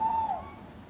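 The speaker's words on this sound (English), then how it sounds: "This barn owl is listening as well as watching for its prey" A barn owl calls once nearby, a single short tonal cry that bends downward at its end, heard alone over quiet background.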